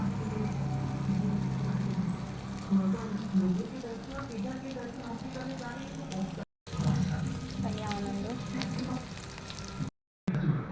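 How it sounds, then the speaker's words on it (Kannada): Rava-coated mackerel (bangude) frying in hot oil, giving a steady crackling sizzle throughout with brief gaps, while a voice talks faintly in the background. "ಎಣ್ಣೆ ಬಿಸಿ ಆದಮೇಲೆ ಎಣ್ಣೆಗೆ ಫ್ರೈ ಮಾಡಿ ಮೀನು"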